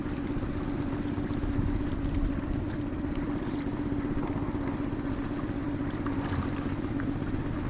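A surface-drive boat motor runs steadily in cattails on the Kissimmee Chain of Lakes, giving a loud, continuous low engine drone that holds evenly throughout.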